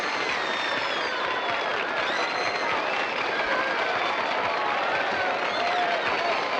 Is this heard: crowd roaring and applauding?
yes